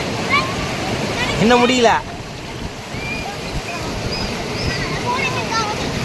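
Rushing floodwater from an overflowing stream at Veppur roars steadily under wind noise, while someone speaks briefly and high whistly calls sound early on.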